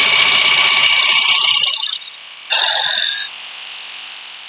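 A jigsaw runs at full speed with its blade barely grazing the edge of the material, a loud high whine that drops away, pauses, then briefly returns before fading.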